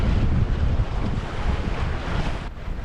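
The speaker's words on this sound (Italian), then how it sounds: "c'è parecchio mare, onda e vento poco, molto fastidioso questa onda" Rough sea waves and gusting wind buffet a sailboat off Capo San Marco and Isola di San Pietro in Sardinia. The roar is loud and steady, with wind noise hitting the microphone throughout.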